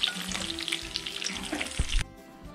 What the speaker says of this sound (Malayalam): അപ്പോൾ ചിക്കൻ ഫ്രൈ നമുക്ക് നന്നായിട്ട് ഫ്രൈ ആയിട്ടുണ്ട്.